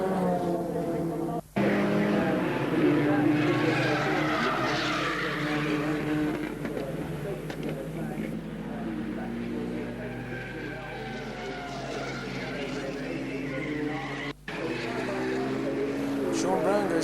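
Fina BMW and other production cars in the 1988 Production Car Championship racing round a circuit, a continuous engine roar under an excited commentator's voice throughout.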